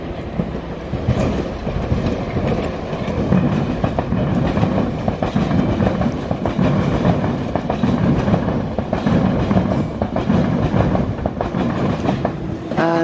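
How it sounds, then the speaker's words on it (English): A tube train running on London Overground lines rolls past a platform with a loud, steady rumble and rhythmic clickety-clack of wheels over rail joints, close by, ending with a faint squeal. "here comes yonder tube train on the overground"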